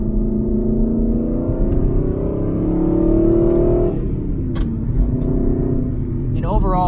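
A 2015 Aston Martin V8 Vantage GT heard from inside the cabin while driving, the engine droning steadily and rising in pitch, then dropping with a couple of downshift blips near the end.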